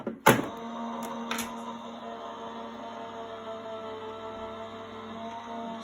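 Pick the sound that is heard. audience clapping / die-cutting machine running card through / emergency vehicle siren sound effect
die-cutting machine running card through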